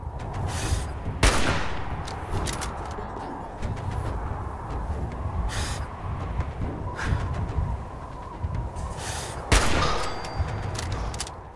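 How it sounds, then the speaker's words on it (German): Gunfire in the Fallout 4 video game, with sporadic shots cracking out over a busy, dense background and two sharper, louder reports standing out early and late; no one talks. "Okay, von irgendwo wird geschossen"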